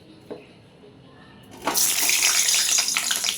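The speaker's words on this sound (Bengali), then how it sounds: "তেল গরম হয়ে গেছে আলু ভেজে নেব লাল লাল করে নুন হলুদ দিয়ে" Potatoes drop into hot oil seasoned with salt and turmeric, starting a loud, steady hiss and crackle of frying that carries on after a quiet start.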